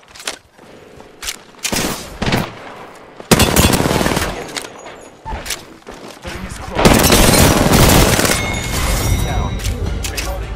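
Gunfire from a shooter match in Apex Legends, with bursts and volleys of shots coming in irregular clusters, the heaviest stretch near the end, mixed with other game effects and a brief spoken line.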